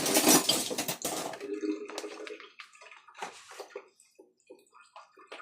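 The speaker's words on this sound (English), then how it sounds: "Let me just clear the sink a minute." Water splashing and gurgling in a kitchen sink as a blockage of hair is cleared, with clattering of dishes and a few soft drips and knocks trailing off into quieter moments.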